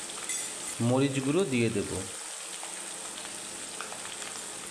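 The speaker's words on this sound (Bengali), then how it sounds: "পেঁয়াজ রসুন আদা বাটাটাকে ভালো করে কষিয়ে নিচ্ছি" Onion, garlic and ginger paste with turmeric and chili powder sautéing in a pan, a steady close sizzle running throughout, with a brief spoken remark over it near the start.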